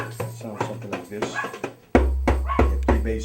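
A West African djembe hand drum with a skin head, played with sharp open and slap strokes in an uneven pattern, close and fairly loud, with a deeper booming tone in the second half.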